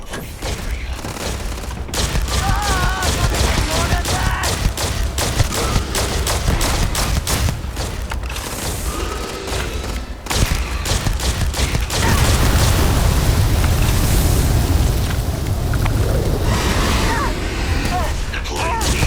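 Gunfire in Starfield, dense rapid volleys of shots crackling steadily for the whole stretch, loud and close, with a voice speaking over the battle.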